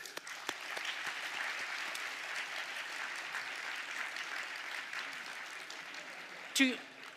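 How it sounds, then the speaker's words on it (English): Applause for the parents at an SMU School of Accountancy undergraduate commencement ceremony in 2018, soft and distant, a steady patter lasting several seconds with a brief louder sound near the end. "Let's give all the parents a round of applause"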